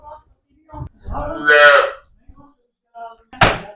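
A white heifer lets out a single loud, drawn-out moo up close at a cattle sale in Tarn Taran, Punjab, with brief knocks and thuds around it.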